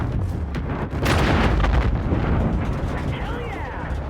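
Massive ship explosion in Call of Duty Infinite Warfare, a loud roaring blast with a sharp burst that rumbles on under heavy game noise and a faint sweeping tone.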